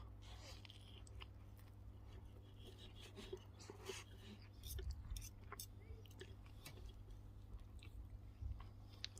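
Close, quiet chewing and biting of cooked pigeon dressed with garlic, butter, mango chutney, parsley and mint, soft wet mastication with small crunches and squishes, with faint low voice sounds at times.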